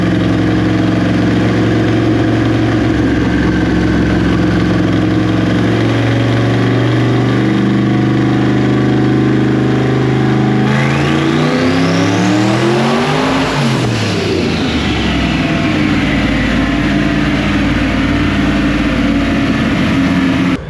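A methanol-fueled race car engine, tuned to over 1,100 horsepower, runs loudly up close, holding a steady rumble before revving sharply up and back down in a sweeping rise and fall.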